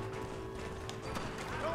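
Horse hooves clopping in Red Dead Redemption during a train-protection mission, a quick, soft run of hoofbeats under a voice talking.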